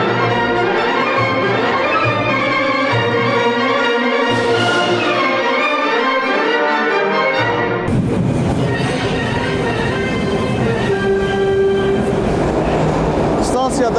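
A metro train rumbles loudly as it pulls into Koroğlu station in Baku, with a fragment of Üzeyir Hacıbəyli's Koroğlu overture playing over the station's sound system throughout.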